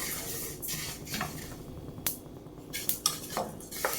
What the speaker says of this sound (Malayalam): എള്ള് പെട്ടെന്ന് റോസ്റ്റായി കിട്ടും, കരിഞ്ഞു പോകാതെ സൂക്ഷിക്കണം.